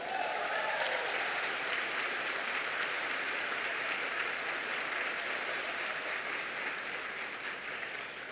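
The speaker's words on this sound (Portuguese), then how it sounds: "Você vai aplaudir ou eu vou ter que pedir?" Congregation applauding during a sermon, a dense, even wash of clapping from a large crowd, loud and steady, slowly fading toward the end.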